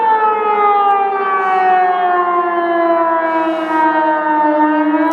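A civil defense siren wails at night in Dzerzhinsk, a loud, steady rising-and-falling tone that holds alone without any other sound.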